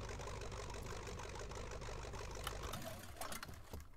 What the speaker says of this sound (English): Very nice engine sounds.